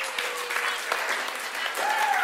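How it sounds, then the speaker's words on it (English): Audience applause in a church student ministry gathering, a steady wash of clapping for about two seconds with some voices faintly mixed in. "let me applaud two groups of students real quick"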